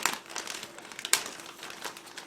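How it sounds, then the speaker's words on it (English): A plastic bag holding Tamiya model kit parts and a sprue is pulled open close by, with irregular crinkling and crackling and one sharp tear-like burst, no talk. "So just give me a second to open this plastic bag."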